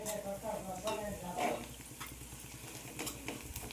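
Masala stirred and fried in a pan for an egg fry: soft sizzling under repeated scraping strokes of a spoon against the pan, fairly quiet and close, with a faint voice briefly at the start.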